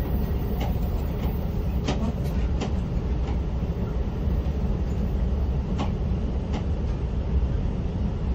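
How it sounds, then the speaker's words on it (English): Amtrak passenger train travelling from Los Angeles to San Francisco, heard from inside as a steady, even rumble with occasional faint rail clicks and no voices. "This is my Amtrak train."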